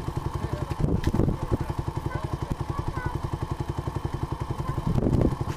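A dirt bike engine chugs in gear with a fast, even pulsing beat, close and loud, swelling briefly twice as the throttle is opened a little.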